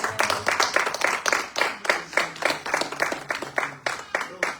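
Congregation applauding together during a Pentecost church service; steady rhythmic clapping in a regular beat, loud and close, with some voices faintly mixed in.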